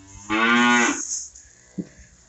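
A cow on a farm lets out one loud, drawn-out moo, close by. A short low grunt follows after a brief pause.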